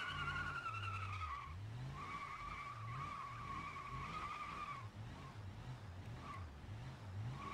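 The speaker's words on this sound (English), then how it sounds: "we're off with tire squealing galore" Race cars in the BeamNG driving game squeal their tires almost continuously, with a loud skidding whine layered over rising and falling engine revs across the whole stretch.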